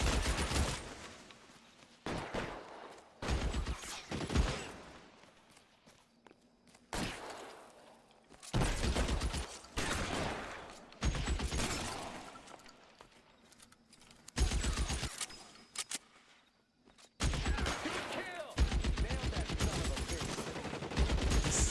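Loud bursts of gunfire and rapid volleys erupt during a shootout in the video game L.A. Noire, arriving in repeated clusters separated by brief pauses, with a voice talking between some of them.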